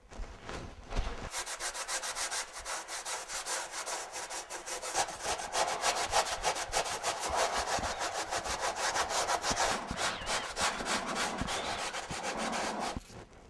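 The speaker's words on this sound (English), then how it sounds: "put on my little face shield so I don't breathe all this junk and get back to sanding" Hand sanding a console with coarse 36 grit sandpaper: rapid back-and-forth rasping strokes, close and continuous, with no talking.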